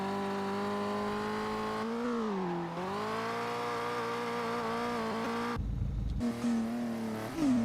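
Engine of an Evo car in Touge Shakai racing game on the Odawara map, a sustained tonal drone that shifts pitch through gear changes and revs, with brief gaps and squeals, no talk.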